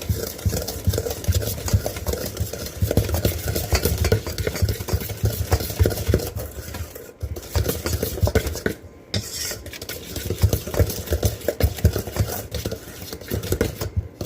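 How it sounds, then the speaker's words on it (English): Egg, sugar and cornstarch whisked together in a bowl: a steady, rapid clatter of a whisk against the bowl, continuous and close for the whole stretch with only brief pauses. "Now whisking my egg, sugar, and cornstarch together."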